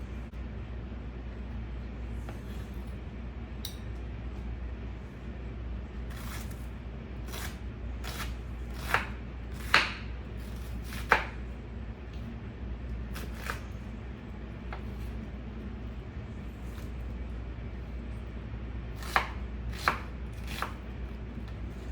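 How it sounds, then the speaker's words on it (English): A knife slices onions on a cutting board for crockpot BBQ pulled pork, giving a series of crisp, close chopping taps in irregular clusters over a steady low background hum, with no talking. "slice up the onions"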